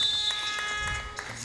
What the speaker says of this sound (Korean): 이렇게 종료 부저가 울리면서 양 팀의 경기가 종료가 됐습니다